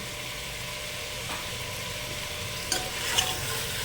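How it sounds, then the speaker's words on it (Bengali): Chicken pieces with salt are stirred in a pan, a soft steady sizzle under a couple of clear spatula knocks against the metal near the end, quiet and close, with no voices. "লবণ দিয়ে আমরা হালকা নাড়াচাড়া করে এটা মিশিয়ে নেব।"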